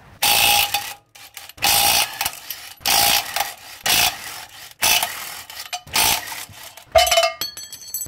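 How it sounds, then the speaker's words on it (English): Six 19mm flex plate bolts being undone on an R31 Skyline during a manual gearbox conversion: repeated loud bursts of ratcheting and metallic rasping, each a second or so long, separated by short pauses, up close. "You got six bolts. They're a 19mm bolt. Undo them"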